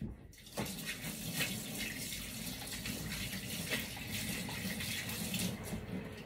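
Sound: washing hands under running tap water

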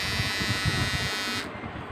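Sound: Mi Trimmer 1C electric trimmer running

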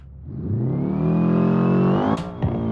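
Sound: racing video game car launch, engine revving

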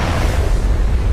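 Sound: explosion in a magic potion lab, animation sound effect

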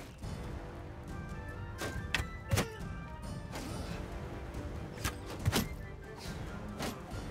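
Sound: shooting from horseback in the video game Mount & Blade II: Bannerlord

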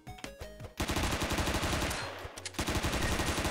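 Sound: light machine gun firing in a video game

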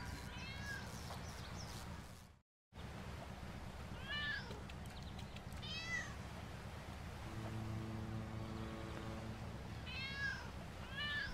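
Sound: cat meowing in video game LEGO City Undercover

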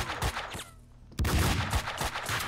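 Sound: pistol gunfire from the video game Max Payne 2

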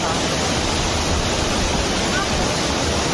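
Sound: waterfall near Pune

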